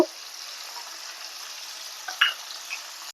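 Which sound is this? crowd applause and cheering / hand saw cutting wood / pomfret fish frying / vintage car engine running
pomfret fish frying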